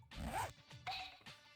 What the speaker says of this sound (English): Teddy suddenly undoes his zipper.